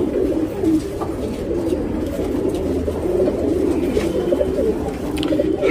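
A tournament racing pigeon coos close and loud, a continuous low throaty burbling that runs throughout with soft rustling around it.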